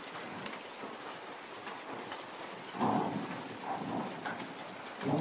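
Steady rain falling outdoors, a dense hiss of drops on surfaces with brief louder gusts, fairly faint and continuous throughout.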